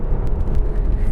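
A 2016 Mercedes-Benz GLC43 AMG with a 9-speed automatic gives a close, deep engine drone during a quick gear change, broken by a few brief crackles and pops, with no talking.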